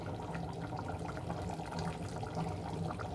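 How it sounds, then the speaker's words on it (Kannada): Ghee is added to Mallika biryani, giving a soft, continuous, wet hiss and gurgle that stays steady and fairly quiet throughout, with no voices. "ನಾನಿಲ್ಲಿ ತುಪ್ಪನ ಹಾಕ್ಕೊಳ್ತಾ ಇದ್ದೀನಿ"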